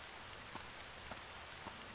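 Steady rain falls in the survival video game Stranded II, a constant hiss of drops with a few slightly louder taps, with no voices.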